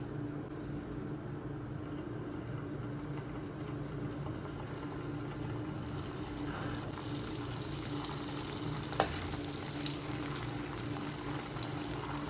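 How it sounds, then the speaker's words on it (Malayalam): Continuous soft bubbling hiss of gulab jamun deep frying in oil on low heat, steady and fairly quiet throughout, with a faint low hum beneath. "എണ്ണയിൽ പൊരിച്ചെടുക്കാം"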